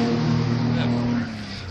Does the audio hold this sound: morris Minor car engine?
yes